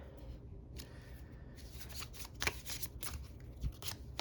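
A deck of oracle cards being shuffled close by, soft flicking and riffling bursts with a few sharper snaps, faint and quiet overall.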